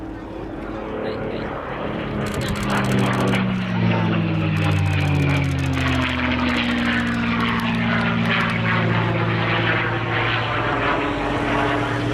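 A propeller aircraft, a Mustang, flies past at the Cosford airshow. The engine drone is loud and close and rises as it passes, with a falling pitch as it goes by, while a commentator talks over it.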